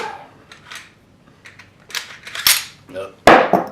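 AK-47 rifle bolt worked by hand: several sharp metallic clacks and slides close up, the loudest snaps near the end, with brief rattles between.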